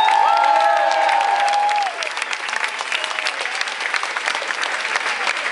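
A live metal concert crowd at The Roxy in Argentina cheers and applauds loudly, with a shout or whistle over the start before the dense clapping carries on steadily.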